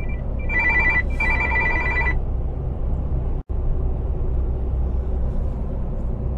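A telephone rings in a truck cab in a few harmonic electronic trills over steady low engine rumble, then falls silent while the rumble continues.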